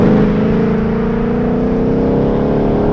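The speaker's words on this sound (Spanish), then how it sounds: "lo que te permite disfrutar de un motor atmosférico vieja escuela de altas prestaciones" A Ford Mustang Mach 1 with a naturally aspirated V8 sends out a loud, deep, continuous engine drone that holds steady with a slight rising strain, close by and alone.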